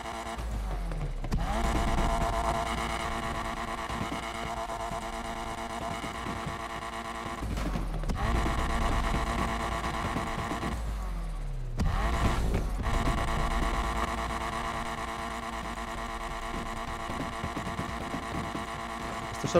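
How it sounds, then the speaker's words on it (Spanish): Stock exhaust note of a car in the racing video game Need for Speed Unbound: a steady droning engine hum, broken three times by sharp rev blips that sweep up and drop back, with no talk. "Ver sonidos de escape."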